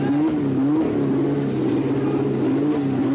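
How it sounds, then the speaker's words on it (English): A Ford Mustang Probe IMSA race car with a 750 bhp four-cylinder engine pulls away from a pit stop, its engine droning loud and steady with slight pitch wavers throughout. "Car is down off the air jacks and away."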